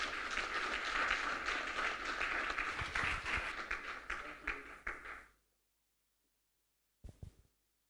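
An audience claps for Fatuma at an agriculture youth event, a steady burst of applause lasting about five seconds and then cutting to silence, followed by a brief faint patter of claps.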